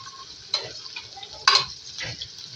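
Chopped green chillies and crushed red chilli frying in a pan for an aloo sabzi: a quiet crackling sizzle punctuated by a few sharp clicks and scrapes of a spoon against the pan, no voices.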